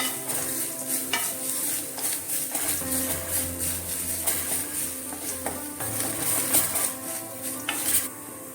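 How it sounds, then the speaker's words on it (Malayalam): Whole spices, cinnamon and star anise, roast in a hot pan for chicken curry, with a soft steady sizzle broken by repeated scraping and clinking of a spoon against the pan, close and clear, with no talking. "ഇതും കൂടെ ചേർത്തൊന്ന് വറുത്തെടുക്കാം"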